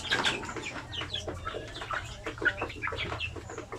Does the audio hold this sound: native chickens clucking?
yes